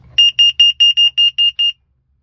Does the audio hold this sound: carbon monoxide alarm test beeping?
yes